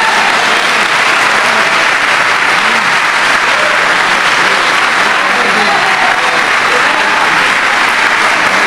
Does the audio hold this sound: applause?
yes